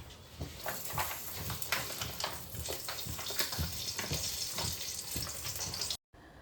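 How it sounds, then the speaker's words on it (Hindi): Vermicelli roasting in a spoonful of ghee in a wok, a steady frying sizzle broken by repeated scraping stir strokes. It runs loud and continuous until a sudden cut near the end. "तो गाइज मैंने कढ़ाई में थोड़ा सा घी डाला, यानी 1 चम्मच, और 1 कटोरी सेवइयाँ निकाली मैंने, और इसको करूँगी मैं रोस्ट"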